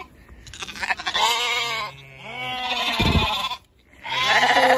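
Lambs bleating loudly and close while being prepared for clipping, overlapping wavering cries from several animals in near-continuous succession with a brief lull.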